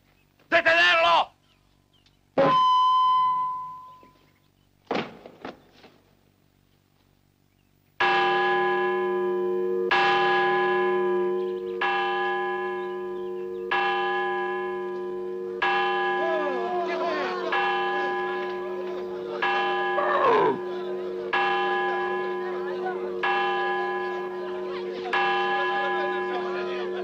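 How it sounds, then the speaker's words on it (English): A church bell rings loudly and close in repeated, evenly spaced strokes, each leaving a long ringing decay; before it, brief sharp sounds and a short shout. "This bell is ringing for you, Colonel Huerta."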